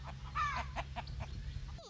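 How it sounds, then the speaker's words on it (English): A cockerel calls once or twice near the microphone, a short rising, bright cry over low steady background rumble, with no one speaking. "Grandma also has a boy chicken called a cockerel."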